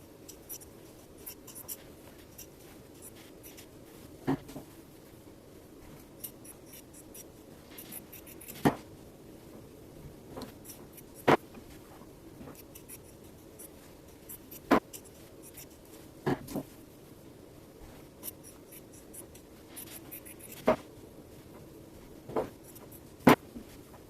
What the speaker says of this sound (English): Now we are going to cut a bunch of different sized circles